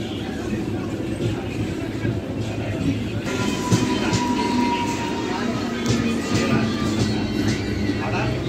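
An MMTS suburban train heading toward Lingampalli rumbles steadily at a moderate distance, a continuous low roar with faint rail squeals, no talk over it.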